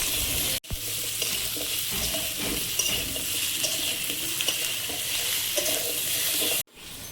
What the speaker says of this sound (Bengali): মশলার সঙ্গে ভালোভাবে কষিয়ে নেব।